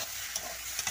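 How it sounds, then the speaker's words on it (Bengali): Ash gourd frying in hot oil in a kadai, a steady close sizzle with a few brief scraping stirs, no voices. "এরকম ভালো করে নেড়ে চেড়ে ভেজে নেব"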